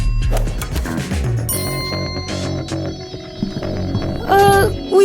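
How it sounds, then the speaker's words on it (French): A video game cash register gives clanking mechanical clicks, then a bright bell-like ding and a jingling tone near the end, loud and close. "Allez, ouvre la caisse."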